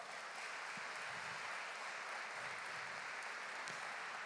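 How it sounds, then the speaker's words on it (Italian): An audience claps in an auditorium set in a former church, a dense, even patter of many hands sustained for several seconds at moderate distance, with no voices over it. "quindi fatevi un applauso."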